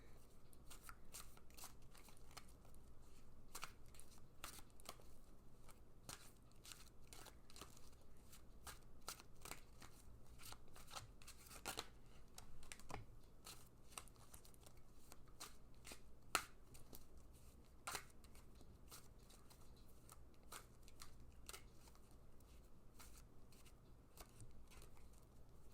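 Tarot cards are shuffled quietly by hand, a faint run of soft riffles and crisp snaps scattered irregularly over a low, hushed background, with no talking.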